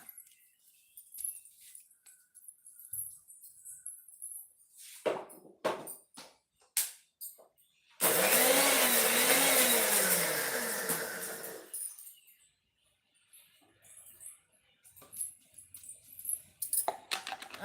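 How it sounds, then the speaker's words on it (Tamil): A kitchen mixer grinder pulses garlic, cumin and shallots in one loud, whirring burst of about four seconds, with scattered clicks and handling noises before and after it. "பூண்டு ஜீரகம் சின்ன வெங்காயத்தையும் அரைச்சிருவோம்"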